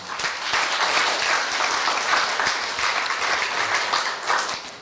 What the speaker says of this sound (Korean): 우리 박신 부장님께 다시 한번 큰 박수 부탁드립니다